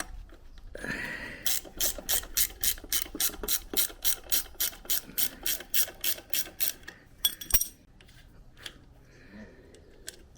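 A ratchet spins off the rear wheel nut of a 1980s Yamaha YG1 80 motorcycle, giving about twenty quick, evenly spaced metallic clicks up close, then a final clunk and a few softer handling noises.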